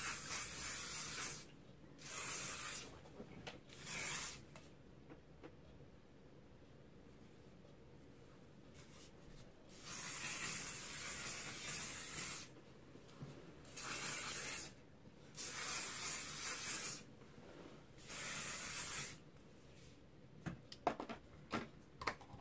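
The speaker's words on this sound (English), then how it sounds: "So I just spray it into my hair." Ultra strong styling hair spray hisses from a can into hair in about eight separate short bursts, each a second or two long, close and fairly quiet, with brief pauses between them.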